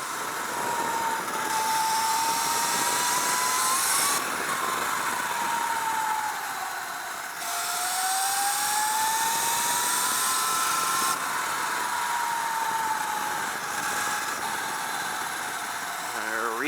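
A Light Bee electric motorbike with a KO F-Spec motor and 300A controller, ridden slowly in sport mode on a road, gives a steady high motor whine that rises and falls gently, with bursts of wind noise and no talking.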